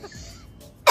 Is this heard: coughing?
yes